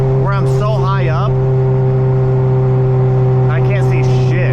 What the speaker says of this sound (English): This is my first time like driving a Rotary, and it loves RPM.